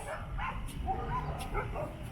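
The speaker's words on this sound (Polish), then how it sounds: "Ile psów tam na werandzie." Several dogs on a veranda yipping and barking in short bursts at some distance, mixed with outdoor background noise.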